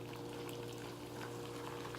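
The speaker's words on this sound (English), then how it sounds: "Let's go grab our boiling hot water. Let's just pour that thing in." Boiling hot water poured onto ramen noodles and meat, a steady continuous liquid pour with a low hum underneath, moderately loud and unbroken.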